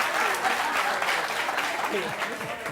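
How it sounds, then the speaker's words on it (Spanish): Studio audience applause for a volunteer on a Spanish-language television courtroom show, loud continuous clapping with someone talking over it. "Un aplauso a nuestro voluntario."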